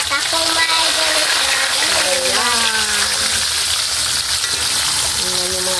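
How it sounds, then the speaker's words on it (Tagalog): Pork chicharon crackling and sizzling steadily in hot cooking oil, a continuous loud frying hiss throughout, with a person speaking over it at times. "So, ilagay na natin balik dito sa mantika."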